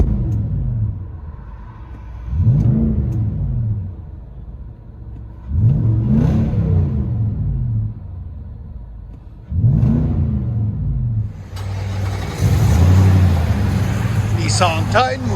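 A 2019 Nissan Titan pickup with a 5.6L V8 and STILLEN cat-back exhaust, heard from inside the cab, revs in four swelling bursts of deep rumble that settle back to idle, with someone talking over it.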